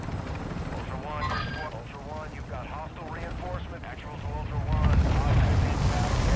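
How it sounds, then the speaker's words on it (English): Helicopter arriving in Call of Duty DMZ, a rumbling rotor drone that swells louder toward the end under the players' talk and game sounds. "Oh god, that helicopter does come in quick."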